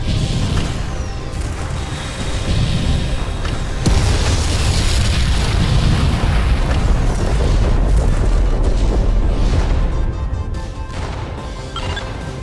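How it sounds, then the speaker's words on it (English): A destroyer blows apart in Freespace 2, a space combat game: loud, sustained booming detonations with crashing rumbles, and a heavier blast near four seconds rolling into continuous roaring debris. "Reading multiple detonations within the destroyer."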